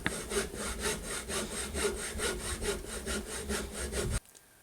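A hand saw cuts a slot about a quarter inch deep into a wooden topwater lure body, in steady, even back-and-forth strokes. The strokes are close and clear, with no talk, and they stop abruptly near the end.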